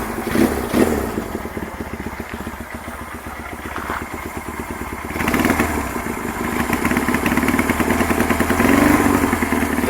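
Honda CB200 motorcycle engine running with its revs refusing to drop because of a badly adjusted throttle cable, a close, steady clattering idle with rapid firing pulses that swells somewhat louder toward the end.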